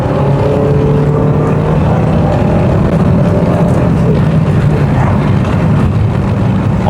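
A Rover 400 Tourer's engine revving hard while driving, heard from inside the car as a loud, steady, continuous drone with no talking.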